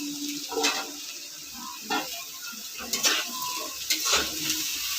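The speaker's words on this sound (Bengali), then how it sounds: "দেখুন আলুটা এবারে ভাজা ভাজা হয়ে এসছে, আলু পেঁয়াজটা অনেকটাই ভাজা হয়েছে।" Potato and onion sizzle steadily in a pan for a Bengali fish chochori, with several scraping stirs of a spatula breaking through the constant frying hiss.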